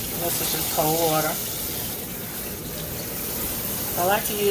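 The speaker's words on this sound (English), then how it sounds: "I'm going to run some cold water over it" Cold tap water runs steadily over cooked taco meat in a strainer, a continuous splashing rush under a voice speaking briefly at the start and end.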